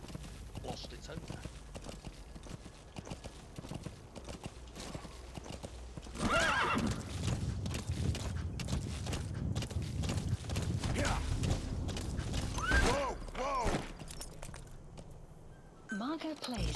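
Hooves clip-clop rapidly and steadily through the whole stretch, growing louder midway, with a horse whinnying near the end and voices murmuring underneath, in the video game Metal Gear Solid 5: The Phantom Pain.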